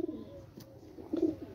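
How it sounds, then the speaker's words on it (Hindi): A champion low-flying racing pigeon gives soft cooing calls close by, two or three low throaty coos with quiet gaps between them. "ये भी हमारा गर्मी का उड़ा हुआ कबूतर है"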